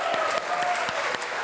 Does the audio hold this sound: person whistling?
no